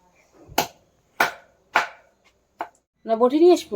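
Four loud, sharp knife chops spaced about half a second apart as a large fish with tough bones is cut, the blows close and distinct, followed by a brief burst of speech-like voice at the end.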